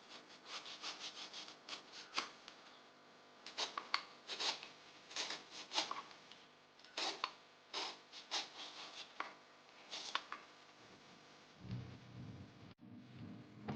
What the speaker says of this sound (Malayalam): ഇതിൻ്റെ തൊലി നമുക്ക് വെട്ടിക്കളയാം